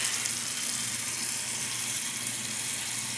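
Butter bubbling in a pot on the stove makes a steady, close sizzling and bubbling that runs without a break.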